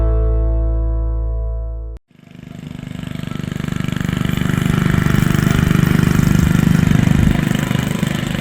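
Hit and miss engines run steadily at a heritage days show after a brief tonal hum cuts out, leaving a continuous mid-pitched mechanical chugging that holds close and fairly loud for several seconds.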